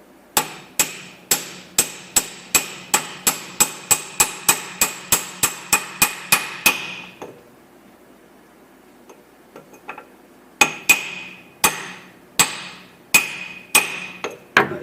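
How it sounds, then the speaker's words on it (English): Sharp metallic hammer blows on an axle socket tapping a hub bearing into a 2009 Ram 1500 4x4, a fast even run of strikes, a pause, then more ringing hits, close and loud. "I'm going to use a socket of some kind to tap it in the rest of the way."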